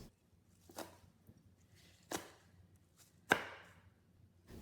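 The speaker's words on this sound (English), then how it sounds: "remove the stems from the leafy greens and slice them into thin diagonals" Knife slicing leafy greens into thin diagonals on a cutting board: three separate crisp chops spaced about a second apart, close and fairly quiet, with no other sound between them.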